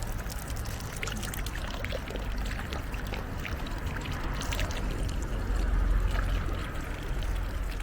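Water streaming from a public drinking fountain in Chernivtsi, Ukraine, a close, continuous splashing pour that swells slightly toward the end, with no voices.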